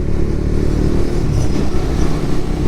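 A new motorcycle engine roars loudly and continuously nearby as gears are shifted roughly, a rough, throaty drone with slight shifts in pitch as it revs.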